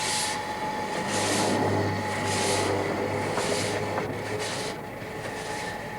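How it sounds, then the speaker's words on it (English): The original 1903 locomotive of a Welsh heritage hill railway rumbles steadily along, with a constant mechanical drone and a low tonal hum throughout, plus rhythmic bursts of hiss, close and fairly loud with no voices. "The locomotive is one of the original ones, built for the railway when it opened in 1903."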